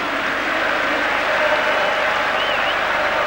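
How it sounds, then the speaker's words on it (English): A noisy crowd at the Dinamo Zagreb–Manchester United football match applauds steadily, a dense, even wash of clapping that holds loud and unbroken throughout. "Encouragement from this noisy crowd."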